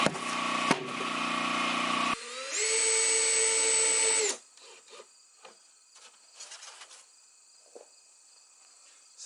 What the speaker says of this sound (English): you can drive screws in styrofoam